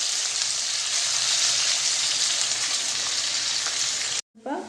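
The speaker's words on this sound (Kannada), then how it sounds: "ಕಟ್ಟು ಮಾಡಿಟ್ಟ ಈರುಳ್ಳಿ ಒಂದು, ಅದನ್ನು ಚೆನ್ನಾಗಿ ಫ್ರೈ ಮಾಡೋಣ" Chopped onion frying in hot oil in a pan, a loud, dense, continuous sizzle that cuts off abruptly near the end, followed by a brief quieter rustle.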